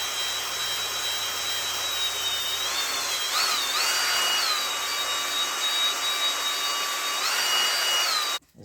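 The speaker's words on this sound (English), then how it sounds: "I'm going to go ahead and hit it with the hone and see what kind of result we can get." A hone spins inside an engine cylinder of a stuck 327 V8, lubricated with old transmission fluid, giving a loud, continuous whining drone that shifts pitch a few times before cutting off abruptly near the end.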